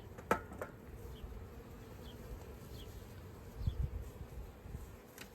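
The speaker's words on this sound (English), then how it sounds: "the bee, it's a little angry at me." An agitated honey bee buzzes near a hive frame being inspected, a steady close drone with a few louder passes, and no talking.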